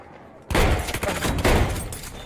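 Gunfire in a video game shooter bursts in suddenly after a quiet half second, a loud flurry of rapid shots with a second surge about a second later.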